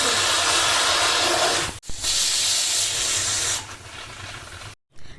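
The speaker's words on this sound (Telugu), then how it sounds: "3 విజిల్స్ వచ్చే వరకు" A pressure cooker on a gas stove, cooking chana dal for kudumulu, lets out a loud continuous steam whistle that cuts off briefly, resumes, then fades and stops abruptly.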